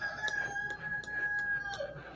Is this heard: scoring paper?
no